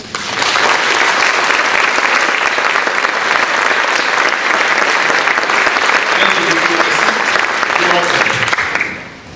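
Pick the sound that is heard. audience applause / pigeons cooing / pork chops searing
audience applause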